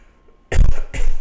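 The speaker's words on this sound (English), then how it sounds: "I'm just thinking about how annoying my cough sounded" Two sharp, close coughs from one person, the first heavier and the second following quickly after a short pause.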